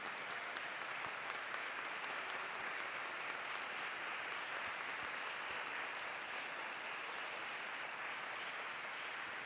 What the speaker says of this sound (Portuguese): E eu queria uma salva de palmas para a Fátima.